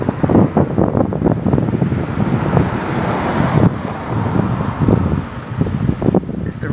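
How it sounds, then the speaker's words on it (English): Steady road rumble and wind buffeting from inside a car rolling through an upscale, tree-lined neighborhood, continuous and fairly loud with no speech. "we're riding through the upper class neighborhood"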